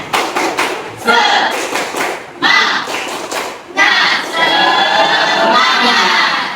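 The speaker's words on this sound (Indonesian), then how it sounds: "mari kita tepuk semangat dulu" A class does a rhythmic group clapping chant, tepuk semangat: bursts of patterned claps and thumps with voices calling along, loud and close, ending in a sustained wash of crowd clapping and cheering.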